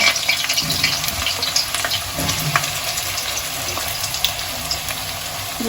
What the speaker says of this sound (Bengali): তেলটা গরম হয়ে গেছে এবার আমি আলুগুলো ভেজে নেবো